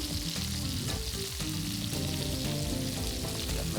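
Lemon juice sizzles steadily on a hot pan of seafood spiedino, a dense, loud, continuous frying hiss with faint stirring, close and alone without speech.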